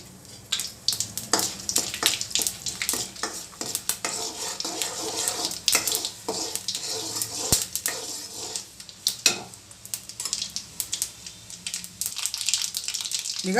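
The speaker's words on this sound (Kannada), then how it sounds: "ಈಗ ಒಗ್ಗರಣೆ ಕೊಡೋಣ ನೋಡಿ ಒಂದು ನಾಲ್ಕು ಸ್ಪೂನ್ ಎಣ್ಣೆ ಹಾಕಿದ್ದೀನಿ ಈಗ ಎಣ್ಣೆ ಕಾದಿದೆ" Spices and lentils for curry leaf rice are tempered in about four spoons of hot oil, producing a steady crackling sizzle with scattered pops and the clink of a spoon against the pan throughout.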